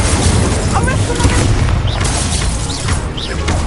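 Incendio fire spell cast in Hogwarts Legacy, a loud booming burst of flame with crackling, whooshing texture, sustained and close throughout.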